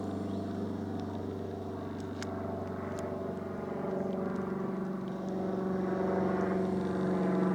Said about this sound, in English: there's been quite a lot of plane noise of varying degrees in the background. A lot of it is Luton airport traffic.